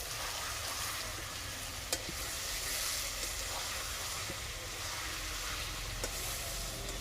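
Chicken pieces salted and stir-fried in a pan give a steady soft sizzle with occasional sharp clinks from a spatula, moderately quiet and close, with no talking.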